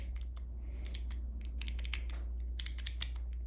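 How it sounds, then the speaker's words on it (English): Rapid clicking of keys on a computer keyboard, typed in quick irregular bursts with brief pauses, close and fairly soft over a steady low hum while someone codes. "Typing is hard."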